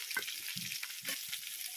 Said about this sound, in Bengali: হালকা করে সবজিটা ভাজা হয়ে গেছে